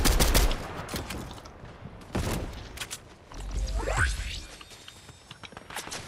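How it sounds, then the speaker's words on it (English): Enemy gunfire in a shooter game comes in several loud bursts of rapid shots separated by brief pauses, with a swooping whoosh toward the end. "We're getting shot by this other team."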